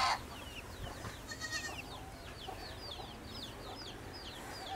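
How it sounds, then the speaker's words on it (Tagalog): Chickens cluck and chirp in short repeated calls across the clip on a farm, moderately distant, over a steady outdoor background hum. "May mga manok."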